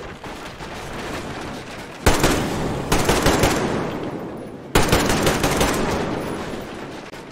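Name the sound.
rifle gunfire in video game Metro Exodus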